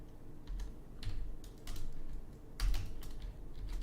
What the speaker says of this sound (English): I'm typing out his name, too bad